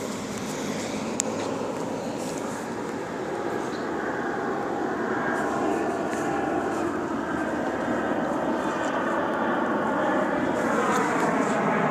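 Steady broadband engine roar from a Delta Airlines airliner passing over Upland, loud and continuous throughout with no gaps, gradually swelling slightly toward the end.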